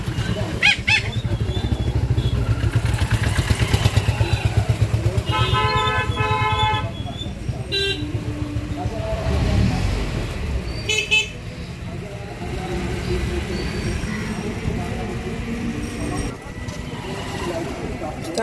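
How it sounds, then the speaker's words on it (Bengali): Cycle rickshaw ride through busy street traffic toward Kavi Subhash metro station, with car and motorbike horns honking repeatedly over a constant engine and road rumble, and people talking nearby. "রিক্সা করে মেট্রো স্টেশন পৌঁছে,"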